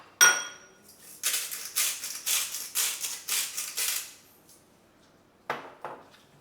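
Seasoned lamb with egg and corn flour is stirred in a bowl, giving a quick run of rhythmic scraping and clinking strokes after an initial sharp clink, then a pause and one last scrape, close and fairly loud with no talk.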